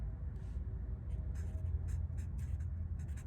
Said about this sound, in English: You need to write your name down here in the corner.